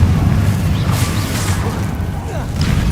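A Confringo fire spell from a Hogwarts video game erupts as a deep, rumbling blast with crackling debris, heavy and close, filling a few seconds amid ongoing game ambience.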